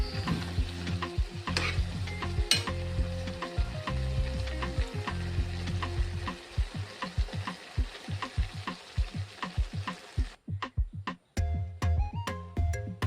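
Tomatoes and soaked tamarind are stirred together in a pan for an Andhra-style tomato coriander chutney, with repeated close scraping strokes over a soft sizzle and a low steady hum that cuts out near the end.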